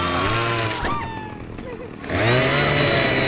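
Game chainsaw revving loudly in Saints Row 2, a steady buzzing engine drone that dips briefly mid-way and then surges back up, with game audio layered over it.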